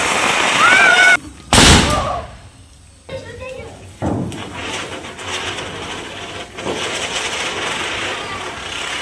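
Diwali firecrackers going off outdoors near residential quarters in Hyderabad at night: a loud close burst and a few cracking pops, then a noisy crowded background with people talking.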